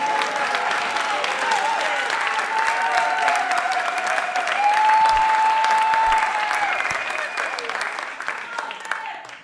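Audience applause at a comedy show, a sustained burst of clapping from the crowd that swells in the middle and tapers off toward the end, with some whistling and cheering mixed in.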